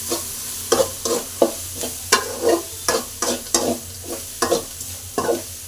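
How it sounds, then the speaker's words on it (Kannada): Soaked puffed rice (churumuri) stirred into a sizzling tempering makes a rhythmic series of close scraping, crackling strokes, about a dozen sharp stirs over a continuous hiss. "ಚುರುಮುರಿ ಹಾಕಿ ಒಗ್ಗರಣೆಗೆ ಹಾಕ್ಕೋತಾ ಇದ್ದೀನಿ ನೋಡಿ."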